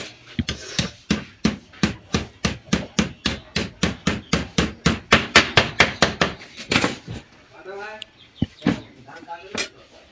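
Transformer core laminations being tapped into a bobbin, a rapid run of about twenty-five sharp, evenly spaced taps over six seconds, then a few scattered knocks with faint chirping in the background.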